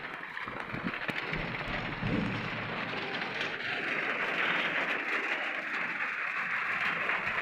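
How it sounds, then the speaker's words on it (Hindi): Steady rain pours down in a dense, even hiss, with a few soft thuds early on and no voices. "ये देखो कितना मस्त बारिश हो रहा है।"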